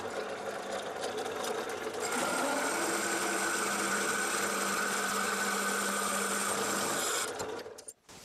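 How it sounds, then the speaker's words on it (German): A 68 mm hole saw on a drill press cuts into a clamped wooden workpiece, a steady loud whirring grind that rises as the teeth bite in, holds for about five seconds, then winds down, close by with no speech. "68 mm Lochsäge und sägen jetzt hier erstmal ein Loch raus"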